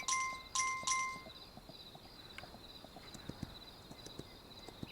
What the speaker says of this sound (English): Horse is still not yet really tired.